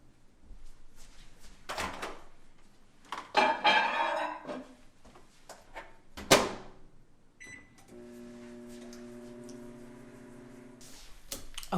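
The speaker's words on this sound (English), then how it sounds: "Just going to heat a little bit of that up in the microwave." A microwave oven heating spaghetti sauce: door and panel clicks and beeps, then the steady hum of the oven running alone after about eight seconds.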